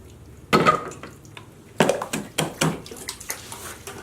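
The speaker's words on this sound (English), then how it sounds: "pour it through a sieve, catch all the bugs and the trash" Muddy water with clay is poured through a sieve, giving a few splashy pouring bursts followed by softer trickling and dripping sounds, close up with no talking.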